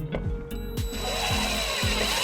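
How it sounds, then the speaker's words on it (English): Power drill driving a 1/4-inch tap screw into the flat metal surface of a 2013 Dodge Journey, with repeated short grinding bursts as the screw bites, close and fairly loud. "we're going to take our 1/4-inch tap screw, and we're going to just drill it on this flat surface"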